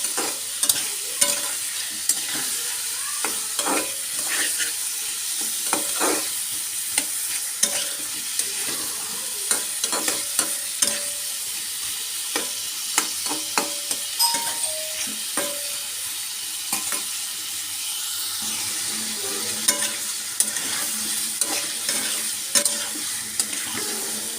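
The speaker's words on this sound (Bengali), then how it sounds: "একদম ভালো করে কষাবো আমি" Prawns being sautéed in a pan with fruit, a steady sizzle under repeated stirring and scraping clicks of a spatula against the metal, close up and with no one talking.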